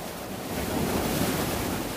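Sea waves wash and break against volcanic-looking rocks on the Malta coast, a steady close roar of surf mixed with wind buffeting the microphone, with no voices.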